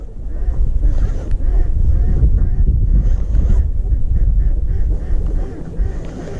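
Loud, constant wind rumbles against the microphone by the water while pike fishing in the cold, with faint quacking ducks in the background.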